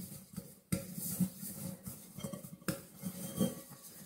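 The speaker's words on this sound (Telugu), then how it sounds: "సో ఇట్లా అంత రుద్దుకోండి ఈ బౌల్కి" An open mixing bowl being rubbed around inside with oil by hand while baking Swedish cardamom bread, giving soft scraping and rubbing with a few light knocks against the bowl, close and quiet.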